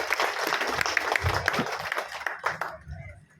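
An audience at a public speech breaks into applause, a dense burst of many hands clapping that holds for a few seconds, then thins out and fades.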